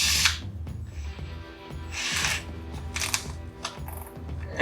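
A drill with a stepped bit widens a hole, heard as several short whirring, grinding bursts separated by brief pauses, fairly close, with no talking.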